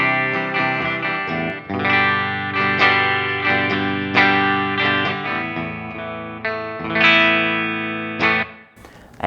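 Electric guitar played through an ML Sound Lab Amped ML800 amp simulator on its vintage clean preset: ringing chords and arpeggiated notes with shimmering chorus-like sustain, steady and fairly loud, played alone.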